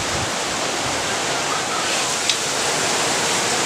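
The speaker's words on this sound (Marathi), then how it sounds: "पाऊस आला." Heavy rain pouring outside a house, a dense, loud, continuous roar of falling water with no break, steady and close.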